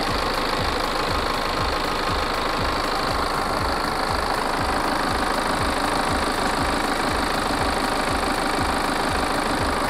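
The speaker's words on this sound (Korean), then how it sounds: "엔진 소리 일정합니다." A BMW 520d F10 diesel idles in the engine bay, a steady rhythmic clatter with even pulses and a constant hum, close and loud throughout with no talking.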